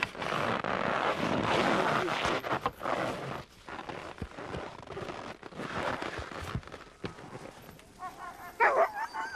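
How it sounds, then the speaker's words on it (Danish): A pack of 22 sled dogs fights in a chaotic tangle of barking, yelping and snarling that rises and falls over several seconds. Sharp yips stand out near the end, with a voice faintly mixed in. "I løbet af ingen tid er 22 slædehunde i et inferno af et slagsmål."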